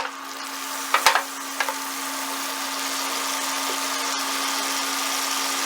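A couple tablespoons of butter drop into a hot pan with a few clanks and a sharp crackle, then settle into a steady, even sizzle that holds for several seconds.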